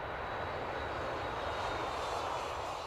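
Airliners on approach toward Heathrow pass overhead, a steady broadband engine roar that holds at an even level throughout with no voices.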